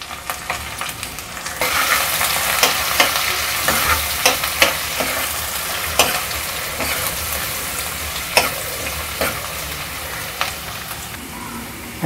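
Onion and curry leaves sizzle in hot oil while a sambar tempering is made with dry chilli, giving a steady frying hiss with intermittent crackles and pops and occasional stirring, close and alone.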